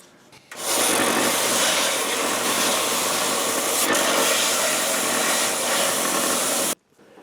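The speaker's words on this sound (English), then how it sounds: "we're shaving with the belt sander about 1/8 inch off the bottom of the top row of leaves" A belt sander shaves wood off the bottom edges of leaf pieces, running as one loud, continuous abrasive roar for about six seconds before cutting off abruptly.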